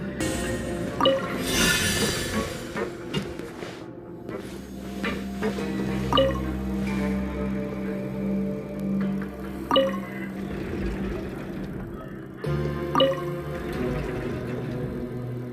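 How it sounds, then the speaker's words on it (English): Rising water in a Genshin Impact puzzle: low rumbling swell with scattered drips, splashes and watery gurgles, plus a few mechanical clicks, steady and moderately quiet throughout. "Ooh, the water level's gone way up."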